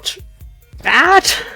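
A single loud, voiced sneeze bursts out nearby during a relaxed Minecraft play session, set against soft background tapping and a little talk.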